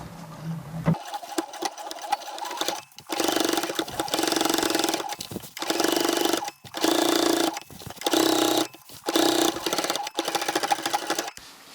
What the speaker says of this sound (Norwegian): syr jeg en stikning øverst på mansjetten